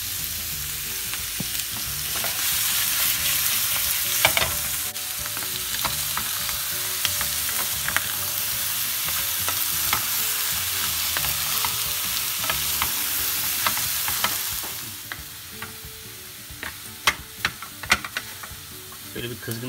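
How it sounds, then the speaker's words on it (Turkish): Diced liver sizzles steadily in a hot, oil-free pan while being stirred, a loud continuous frying hiss with scattered scraping clicks that thins out toward the end. "Sıcak tavaya şöyle bir ciğerlerimizi atıp bir döndüreceğiz."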